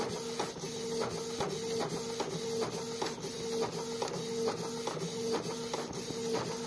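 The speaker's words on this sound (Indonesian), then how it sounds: "Printer ini juga bisa kita gunakan cetak di pad film ya." A modified printer prints a DHT transfer for t-shirt screen printing, giving a steady mechanical whir with regular rhythmic ticks and clunks of the print head, close and continuous.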